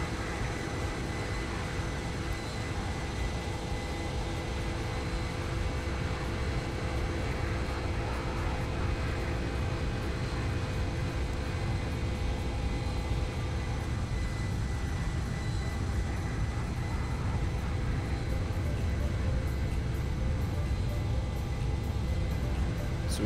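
Steady airliner engine and cabin drone from the X-Plane flight simulator game, on a flight from Sydney; a dense, continuous roar holds unchanged throughout with no talking.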